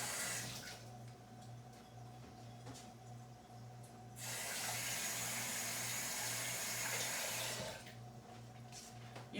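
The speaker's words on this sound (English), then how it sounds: "I'm cleaning off this spoon." A kitchen tap runs while a spoon is rinsed, a faint steady trickle that swells into a louder splashing spray for a few seconds before easing back, over a low electrical hum.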